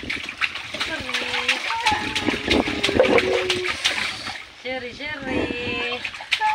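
Water splashing as a child is bathed in a tub, irregular sloshes and splatters close by, mixed with adults talking throughout.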